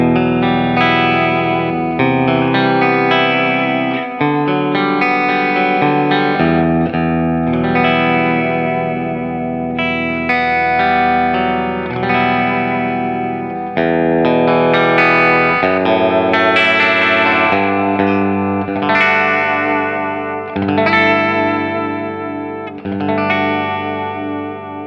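BAUM electric guitar played through its bridge pickup with heavy distortion and chorus-style effects, sustained chords and riffs ringing loud and continuous with reverb tails, no voices.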